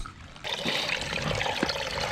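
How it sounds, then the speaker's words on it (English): Creek water trickles and splashes steadily while water is refilled during a mountain hike, a continuous close burbling stream sound with no voices. "now we're gonna refill on water for like a couple minutes"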